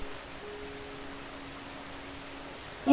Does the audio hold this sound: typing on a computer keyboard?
no